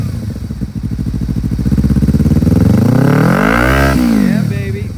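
A used 2014 Kawasaki Ninja 300 with ABS brakes revs up loud and close, its engine note rising and then falling back to idle, with no voices over it.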